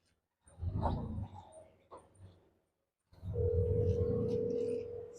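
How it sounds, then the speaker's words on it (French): Ringback tone of an outgoing phone call: a steady, moderately loud single tone sets in partway through and holds for about two seconds, after an earlier burst of muffled rumbling noise and a quiet pause. "Ça sonne."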